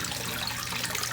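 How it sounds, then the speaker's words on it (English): Water spilling steadily from the overflow of a large backyard pond, a continuous broadband rush and splash, close and fairly loud with no talking. "this is the overflow from the big pond next door"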